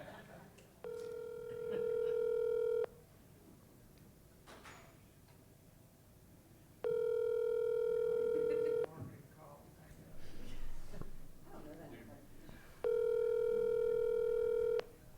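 A telephone rings out over a speakerphone in a commission meeting room, three long evenly spaced tones with pauses between them, carried through the room's sound system, with faint murmurs of people in between.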